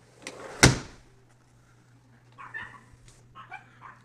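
One sharp, loud impact of an object striking an indestructible door in a weedy backyard, followed a few seconds later by a dog's short, fainter barks or yips.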